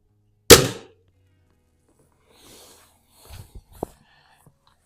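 A vintage spring-piston air rifle fires a single sharp, loud crack at close range with a quick decay, then a few faint knocks and clicks follow at a distance from the splatter target area.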